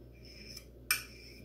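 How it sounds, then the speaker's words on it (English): A knife's back scrapes roasted eggplant from a metal tin: a brief faint scrape, then one sharper metallic scrape that fades quickly over a quiet room hum. "I take a knife and I just run the back of the knife against the tin to kind of evenly"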